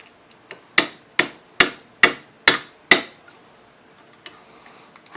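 Six sharp, ringing hammer blows land at an even pace on a homemade punch driven into a part of a 300 Blackout rifle build, close and loud, each strike decaying quickly, with a few lighter taps before and after.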